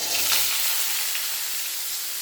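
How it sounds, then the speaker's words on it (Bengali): Beetroot and carrots hit hot oil with cumin seeds in a pan, giving a loud crackling sizzle that settles into a steady frying hiss, close up, with no talking. "এবার আমি এতে দেব বিট গাজরগুলো, সব দিয়ে দেব।"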